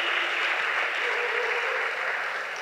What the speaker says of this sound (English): Can we get another quick round of applause for our guy Max Jimenez while he grabs a seat?